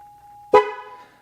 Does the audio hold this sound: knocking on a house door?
no